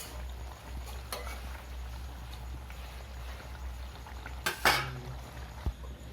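A pot of cooked chicken kosha is lifted off a home stove, a few metal clanks and scrapes with one louder knock near the end over a low steady hum.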